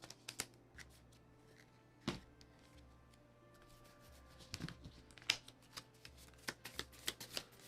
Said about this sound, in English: Alright, shuffling these cards here.